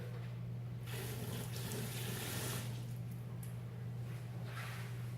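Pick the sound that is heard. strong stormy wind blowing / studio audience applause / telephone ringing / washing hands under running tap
washing hands under running tap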